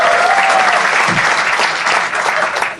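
Loud, sustained applause from a studio audience at a live Indian comedy talent show taping, a dense wash of clapping that continues steadily throughout.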